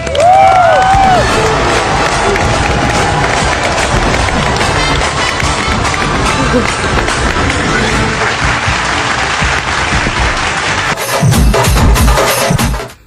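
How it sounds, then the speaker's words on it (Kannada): A studio audience on Bigg Boss Kannada Season 11 breaks into loud, sustained applause and cheering, a dense wall of clapping and shouts that swells at the end. "ನನ್ನ ಈ ವಾರದ ಕಿಚ್ಚನ ಚಪ್ಪಾಳೆ ಧನರಾಜ್ ಅವರೇ ನಿಮಗೆ."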